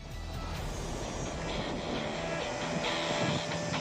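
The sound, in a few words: Mi-26 helicopter in flight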